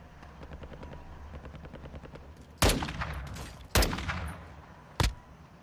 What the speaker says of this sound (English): I already hear gunfire.